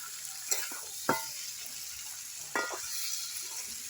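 Chicken and potato pieces fry in oil in a small wok with a soft continuous sizzle, while a few gentle stirring scrapes and clinks of the utensil stand out against the sizzle. No one speaks.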